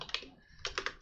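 Two short bursts of typing on a computer keyboard while writing Java code, quick clicky keystrokes close to the mic with a brief pause between them.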